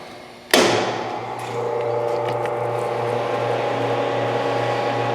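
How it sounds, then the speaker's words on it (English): A metal lathe starts with a sharp clunk, then its chuck spins counterclockwise with a steady motor hum and a low tonal drone, close and continuous. "counterclockwise rotation. Our chuck is spinning."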